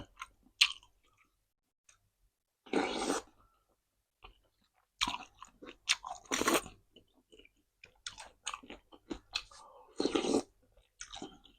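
Crunchy crispy pork being chewed close to the mic in bursts of loud crunches separated by quiet pauses, with a few soft mouth sounds between bites.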